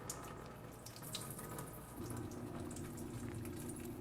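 Tap water pours steadily into a sink while rice is rinsed, the flow deepening in tone partway through, close and continuous.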